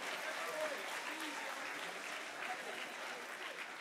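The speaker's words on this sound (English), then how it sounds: "Give yourselves a massive round of applause" A student conference audience gives a sustained round of applause, a steady, even wash of clapping heard from a distance that holds at a constant level throughout.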